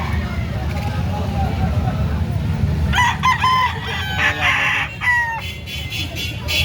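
Gamefowl roosters at a market crowing over a steady low rumble, several overlapping calls close by while someone talks.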